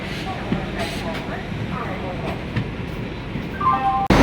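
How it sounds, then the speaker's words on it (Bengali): Three trains at once, including the Doon Express and a local train, rumbling past with steady rolling noise and occasional metallic clicks, a horn-like tone rising near the end. "দেখুন একসাথে 3টে ট্রেন"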